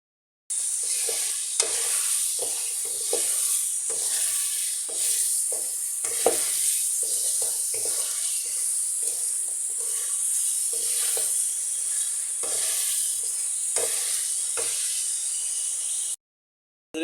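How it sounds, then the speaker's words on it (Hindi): Bull tail meat fried with spices in a pot, a loud continuous hiss and sizzle broken by repeated scraping stirs throughout, heard up close with nobody talking. "जाएंगे हमारे बाकी मसाले और मज़ीद इसको भूनेंगे 3 मिनट के लिए।"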